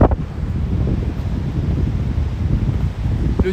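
Strong wind blowing outdoors in the Jura on a winter evening, a loud, continuous low buffeting roar across the microphone with slight gusty swells.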